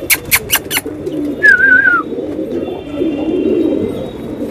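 Pigeons near a baby chicken, with a few quick chirps at the start, then one short warbling bird call, followed by a low, steady murmur of soft cooing and rustling close by.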